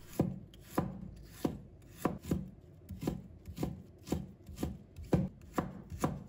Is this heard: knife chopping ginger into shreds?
yes